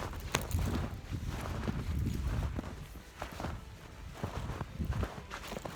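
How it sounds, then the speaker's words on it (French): Footsteps crunching through snow on a forest walk, a steady series of close, soft crunchy steps with light wind noise in the background and no talk. "il y a un truc que j'adore quand on marche dans la neige. C'est le bruit que ça fait."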